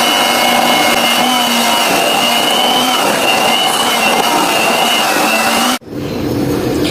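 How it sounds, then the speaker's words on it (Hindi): Electric beater whirring through teacake batter in a mixing bowl, a loud, steady motor whine with a constant pitch that cuts off abruptly near the end, leaving quieter background. "अब इसे बीटर की मदद से मिक्स कर लेंगे।"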